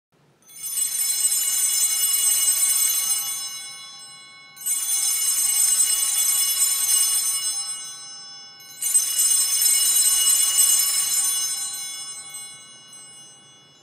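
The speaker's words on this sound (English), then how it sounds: "ring the bells three distinct times" Three long sustained rings of bright, metallic altar bells during Mass, rung at the elevation, each lasting a few seconds before fading, separated by short pauses, loud and close with no talking.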